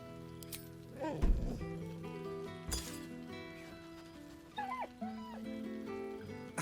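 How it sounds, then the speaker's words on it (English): A dog in Baldur's Gate 3 gives a couple of short whimpering sounds against a bed of steady game music, with a faint clink of something small partway through. "let's chat with our good dog Scratch first, of course"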